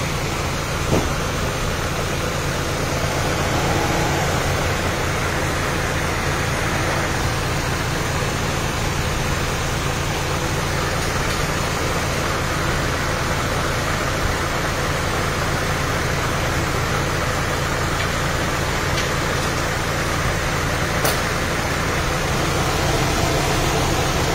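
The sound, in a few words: Mitsubishi Cedia engine running quietly after repair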